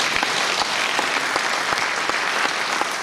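Church congregation clapping in praise during a Covenant Family Day service, a loud, steady wash of many hands with distinct sharp claps throughout, no talking.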